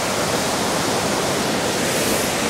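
Monsoon-season waterfall near Lansdowne, Uttarakhand, giving a steady, dense broadband roar with no pauses, close and loud, with no voices.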